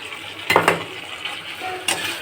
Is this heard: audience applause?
no